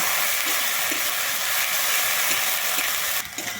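Ground spice paste sautéing in a pan for a Bengali rui fish and flat bean curry, making a continuous close hiss and sizzle with faint scraping stirs and no talking.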